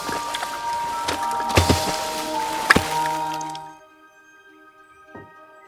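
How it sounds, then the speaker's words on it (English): A brief desert rain shower lands as scattered drips and small splashes, several sharp drops close by over a few seconds with gentle musical tones ringing under them, before everything falls almost silent apart from one last faint drip. "But just sometimes, there's a brief shower."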